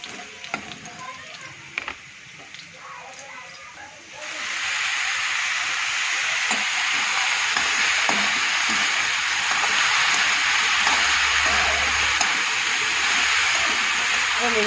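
Onions and cumin seeds hit hot oil in a pan with a sudden loud, steady sizzle that continues evenly after a few quieter seconds of kitchen handling.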